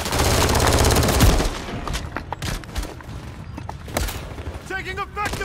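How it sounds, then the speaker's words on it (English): Rapid bursts of automatic gunfire and heavy thuds in a Call of Duty Hardpoint match, loud and dense at first, then scattered shots with a voice calling out near the end. "Taking effective fire!"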